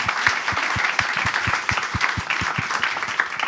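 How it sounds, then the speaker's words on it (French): An audience at a teaching-excellence awards evening applauds warmly: a full, continuous wash of clapping with a faint steady rhythmic thump beneath it, holding level throughout. "Je pense qu'on peut les applaudir une dernière fois."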